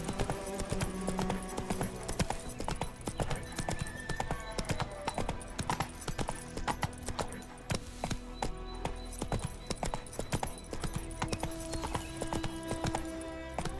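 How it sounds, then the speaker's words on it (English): Hooves of the horse in The Witcher 3: Wild Hunt, a rapid continuous clip-clop gallop over game music and ambience, loud and steady, with no talking. "Whoa there, Roach. That's it, Roach."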